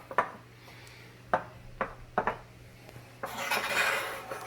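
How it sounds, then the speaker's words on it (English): Flour, butter and eggs for empanada dough are worked in a bowl with several distinct utensil knocks against the dish, then a longer rough scraping and mixing sound near the end, with no voices. "now we are going to add the butter to the flour and 2 eggs. Alright, we're going to mix all this up."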